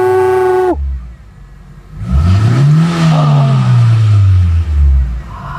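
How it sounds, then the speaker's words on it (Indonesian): A 1995 Toyota Great Corolla AE102 engine revs hard from idle, pitch climbing then easing back down in one long loud sweep, close to the car, after a short tone at the start. "Kita geber dulu Grid Corolla Special ini."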